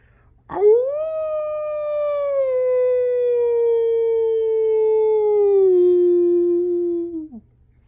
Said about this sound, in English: Saddened by their losses, the friends howled at the night sky.